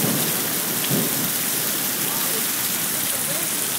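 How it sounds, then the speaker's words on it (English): Heavy rain pours steadily across roofs during a Brisbane summer thunderstorm, a dense, loud wash of sound with wind gusts and a low rumble of thunder early on. "look at the wind pushing that rain across the roof."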